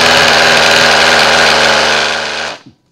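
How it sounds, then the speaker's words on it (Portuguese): Electric power tool motor running loudly at close range with a wavering, unstable speed, a continuous whine that cuts off near the end. "a velocidade não está estável. Portanto, isto implica que o motor está a trabalhar sob algum esforço"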